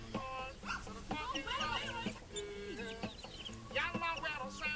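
Several chickens cluck and squawk close by in busy, overlapping bursts, with a dog barking in the mix and a voice heard faintly.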